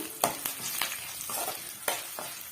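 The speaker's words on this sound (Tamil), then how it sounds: "லைட்டாக வந்து அந்த ஒரு கோல்டன் கலர் வர வரைக்கும் நம்ம வதக்கி விட்டுக்கலாங்க" Onions and garlic sauté in a pan for a curry leaf chutney, with a soft sizzle and a few quick, close scrapes and taps of a spoon stirring.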